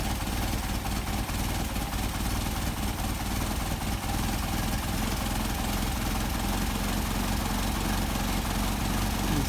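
An engine fitted with a Solex 44PHH carburetor idles with a loud, steady, even running note, its speed being raised toward about 700 RPM, with no voices over it.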